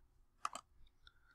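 Sharp computer mouse clicks while building a simple dog house model in Tinkercad with the shift key held: a quick close pair of clicks, then a fainter single click a moment later, with no talk.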